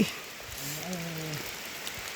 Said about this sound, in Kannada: ಮಳೆ ಬಂತು